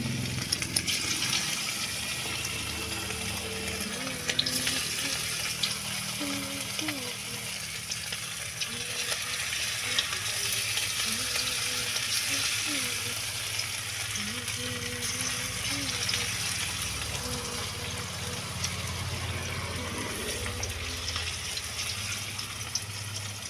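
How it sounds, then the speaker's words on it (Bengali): Marinated boneless chicken pieces fry in hot oil in a kadai for chilli chicken, giving a loud, steady sizzling hiss that runs unbroken from start to finish, with faint low background sounds underneath. "আর এখন কড়াইতে বসিয়ে দিয়েছি এই দেখো তেল, আর এর মধ্যে আমি এই চিকেনগুলো একটা একটা করে ছেড়ে দেব।"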